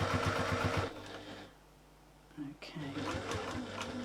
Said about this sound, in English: So, nice little back stitch into that corner.